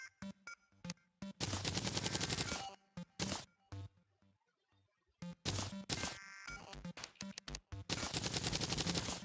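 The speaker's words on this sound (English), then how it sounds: "Bombs are great. They blow things up." Explosions and combat noises from the video game Terraria come in loud, dense crackling bursts, several long rapid-fire runs separated by short gaps and scattered single hits.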